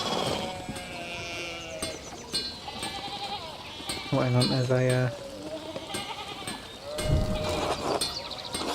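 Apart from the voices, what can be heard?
sheep bleating in the video game Pentiment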